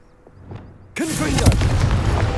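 Bombarda explosion spell in Hogwarts Legacy, a sudden loud booming blast after a quiet moment, followed by crackling debris and a rumbling tail.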